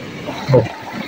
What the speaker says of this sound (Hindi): जग वगैरह साफ़ हो रहा है, साफ़ पानी